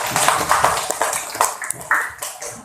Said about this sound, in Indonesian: sekali lagi tepuk tangan dulu buat kita